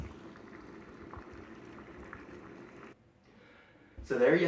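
Steady bubbling roar of water boiling in a pot, continuous for a few seconds, then a quieter pause before a louder burst of bubbling and hiss.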